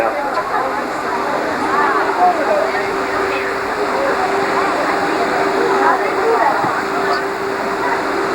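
Heavy rushing water from a theme park flash flood effect, released from large tanks above, pours steadily and loudly, a continuous roar like a waterfall, with a faint tonal hum underneath throughout.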